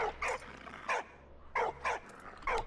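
A puppy barks in the Valiant Hearts video game, five or six short, sharp yips in two quick clusters, close and clear with no talk.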